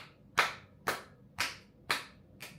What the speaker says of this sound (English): Clap it up. Clap it up. Gotta make sure all my neighbors are awake.